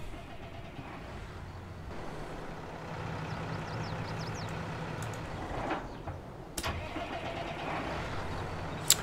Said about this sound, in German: Lassen wir den Motor an.